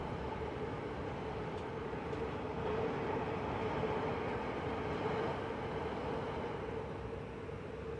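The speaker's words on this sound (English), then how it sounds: "You can hear trains." Trains pass at Tokyo Station in the racing game Forza Horizon 6, giving a steady, moderately faint rail rumble and hum that swells slightly midway, with no talking.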